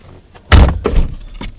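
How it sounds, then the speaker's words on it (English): A car's driver door is opened and shut close by, a sharp thud of the latch followed by a second softer clunk, alone without talking. "open and close the driver's door"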